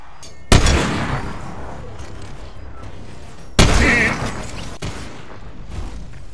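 Sniper rifle shots in a Family Guy cartoon scene with Peter Griffin, two sharp loud cracks that each ring out and fade, then a smaller third report.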